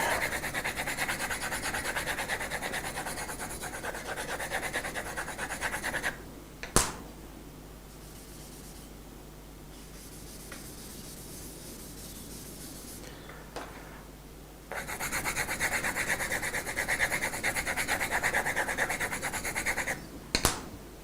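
Pencil shading rubbed gradually onto paper in a beginner drawing: close, soft scratchy rubbing strokes in long stretches, broken by a quieter pause in the middle and a couple of sharp taps.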